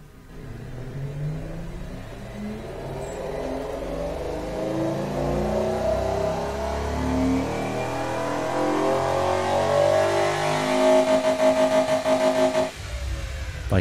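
A heavily powered car engine in the racing and car-design game Automation revs loudly and steadily climbs in pitch for about twelve seconds, then cuts off abruptly with a brief burble.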